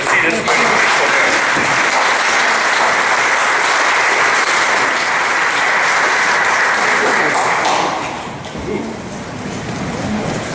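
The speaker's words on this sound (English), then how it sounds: "So please, everyone, a round of applause." An audience at a June event in Watertown breaks into sustained, loud applause, a thick wash of clapping that holds for several seconds, then thins and tapers toward the end.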